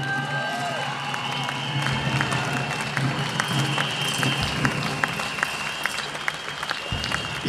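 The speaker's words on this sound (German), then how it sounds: "Ich bedanke mich bei euch für eure Aufmerksamkeit und euren Applaus" A crowd at an outdoor Querdenken demonstration on the Münsterplatz in Ulm applauds steadily, with dense clapping, scattered cheers and whoops, fairly loud and continuous throughout.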